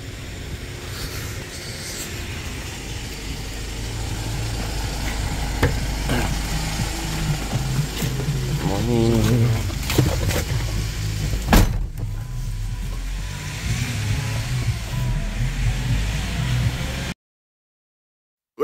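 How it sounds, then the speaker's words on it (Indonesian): A pickup car arrives outside a beachside house, a steady engine rumble and road noise building as it nears, with a brief mechanical whir partway through before the sound cuts off abruptly. "mobil jemputannya udah datang"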